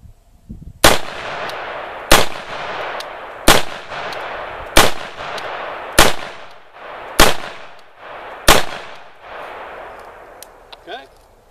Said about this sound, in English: I'm gonna let Joel shoot some rounds through it real quick